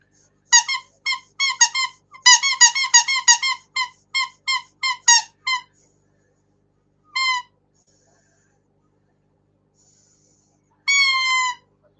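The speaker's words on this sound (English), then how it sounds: "She had the squeaky toy and came running" A squeaky toy bought for about 99p squeaks in quick bursts, roughly a dozen sharp squeals in fast succession, then a pause and two more isolated, longer squeaks, loud and close with no talking.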